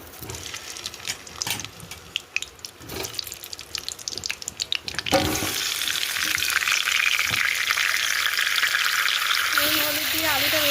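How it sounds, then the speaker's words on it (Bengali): Potatoes hit hot oil in a wok for a goat-meat and potato curry, and a loud, steady broadband sizzle takes over halfway through. It follows a stretch of softer kitchen clatter and running water, with no talk. "তেলটা গরম হয়ে গেলে আলুগুলো ভেজে নেব।"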